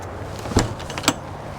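An RV trailer door, a Springdale 1800BH with a friction hinge, swings open with two distinct clunks or knocks about half a second apart, close by over a quiet background.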